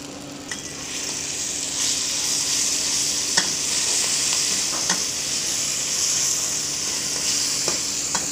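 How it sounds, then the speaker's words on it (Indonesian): Spice paste sautéed in a hot wok for toyam sizzles with a steady, loud hiss, punctuated by occasional clicks and scrapes of stirring, close up and without talk. "Kalau udah panas, kita masukkan, tumis sampai bumbunya harum."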